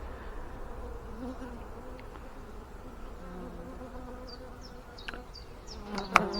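Honeybees in an open hive during an inspection buzz in a steady, dense drone throughout, with a few sharper close passes near the end and a brief louder knock.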